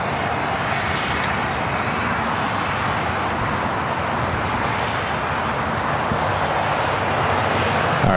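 An Austrian Airlines airliner taxiing at LAX, a steady broad jet engine roar with constant rumble, moderately loud and unbroken from start to end, no talk.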